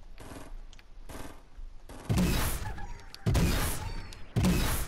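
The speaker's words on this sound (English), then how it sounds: "Yeah, they're shooting west." Fortnite gunfire comes in three loud, sustained bursts of rapid shots, each ending abruptly, with quieter thumping game sounds filling the gaps between them.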